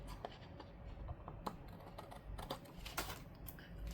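Scissors trimming paper for a monthly budget planner layout, a run of quick crisp snips and light rustles spread irregularly across the span, close by and fairly quiet, with no talking.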